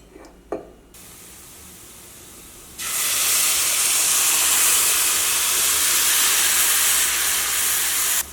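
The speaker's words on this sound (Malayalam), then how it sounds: "ഇനി നമ്മൾ ഇതിലേക്ക് തക്കാളി പേസ്റ്റാണ് ചേർക്കാൻ വേണ്ടിയിട്ട് പോകുന്നത്" After a brief clatter and near silence, a loud, steady sizzling hiss suddenly starts as tomato paste hits a hot pan, continuing strongly to the end.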